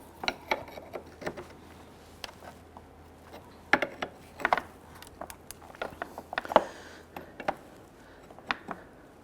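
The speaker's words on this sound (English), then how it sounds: "We're going to go ahead and loosen the transmission cooler here, or the cooler lines." A 22mm wrench loosens the transmission cooler lines at the radiator of a 1999-2004 Jeep Grand Cherokee 4.7L V8, giving scattered faint metallic clicks and ratcheting ticks over quiet background.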